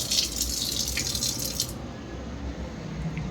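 Water runs and splashes briefly into a bowl to soak cashews in a home kitchen, a steady hissy trickle that cuts off partway through, leaving a low quiet room.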